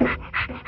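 A scarred, friendly dog pants close to the microphone in quick rhythmic breaths, three or four loud huffs in a row with no talking.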